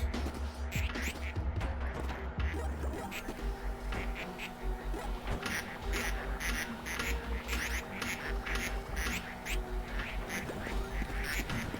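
A steady run of duck quacks in Project PITT, rapid and repetitive across about twelve seconds, close and fairly loud over a constant low electronic hum.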